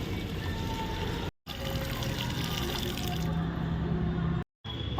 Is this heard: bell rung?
no